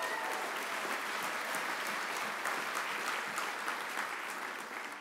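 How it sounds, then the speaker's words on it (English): Sustained audience applause fills a hall at the 2011 BAFTA Video Games Awards ceremony, a dense, steady wash of many hands clapping at an even level throughout. "Give them a round of applause as well."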